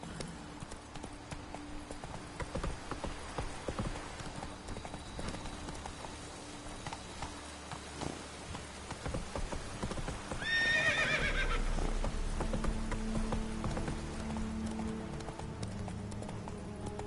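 Roach, the horse in The Witcher 3, gallops with a steady, rhythmic clip-clop of hooves and lets out one clear, high whinny near the middle, while a soundtrack plays faintly beneath.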